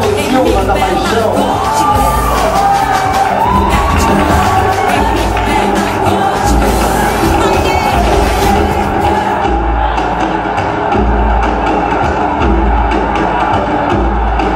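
A large crowd at an event in Salvador cheers and applauds loudly and continuously, with whoops and a broad wash of crowd noise throughout.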